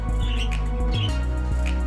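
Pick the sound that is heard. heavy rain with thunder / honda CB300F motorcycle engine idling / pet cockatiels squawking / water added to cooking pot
pet cockatiels squawking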